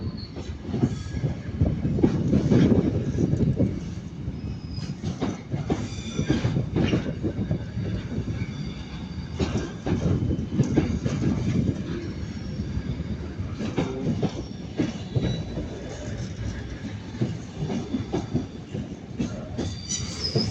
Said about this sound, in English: The train now coming to platform 13 is 1304 northern service to Manchester Airport.